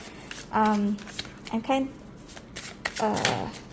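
Flexible oracle cards being shuffled by hand, a few soft riffling bursts close to the microphone, with a voice talking over them.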